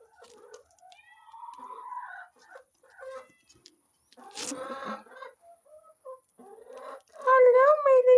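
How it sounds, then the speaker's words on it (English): Chickens on a Namibian homestead cluck and chirp softly in scattered, intermittent calls close by, growing louder and more insistent toward the end. "They are happy chickies."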